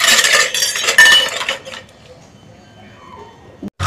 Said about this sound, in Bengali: তাহলে চলো দেখো মাজা ঘষা ছাড়া কিভাবে আমি পরিষ্কার করি তোমাদেরকে ধুয়ে ধুয়ে এবার দেখাচ্ছি